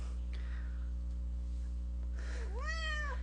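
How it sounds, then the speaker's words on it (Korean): A pet cat gives a rising-and-falling meow near the end, clear and close above a constant low electrical hum, with a fainter earlier cry. "초롱이는 이 고양이 이름이랍니다"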